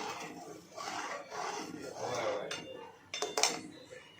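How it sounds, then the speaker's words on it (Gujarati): Saffron-soaked milk stirred into a pan of kesar pista copra pak, a metal spoon scraping and clinking against the pan in soft repeated strokes, with a few sharper clinks toward the end. "હવે મેં આ રીતે ગરમ દૂધમાં થોડું કેસર પલાળ દીધું છે તે નાખી દઈશું આપણે અંદર આ રીતે જો આ રીતે મિક્સ કરતા રહીશું"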